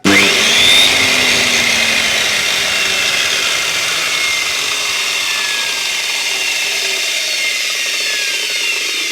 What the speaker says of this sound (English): When I'm finished with my saw, I'm going to hold it up until the motor stops.